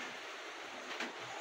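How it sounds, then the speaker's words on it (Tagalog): Faint, broad rushing of a swollen spring stream in flood, a steady distant roar of fast-moving water with no breaks and no voices. "Pero mabilis pa talaga yung ragasa ng tubig"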